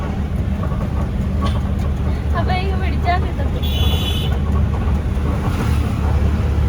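Heavy lorry rolling down the road, heard from the cab as a loud, constant low engine rumble and road drone, with brief talking partway through.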